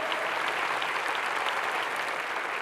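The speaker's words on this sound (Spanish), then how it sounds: "Dale un aplauso a la palabra del Señor" Steady, dense applause from a church congregation after a sermon reading, a continuous wash of many hands clapping at full volume with no voices standing out.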